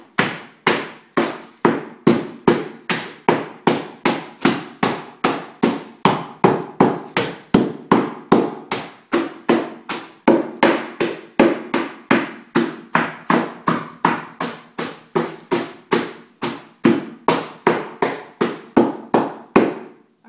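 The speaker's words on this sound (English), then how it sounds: "So I'm going to hammer it really quickly." Rapid, loud hammer blows break dry ice into small chunks, about forty sharp strikes in an even, fast rhythm with no talking.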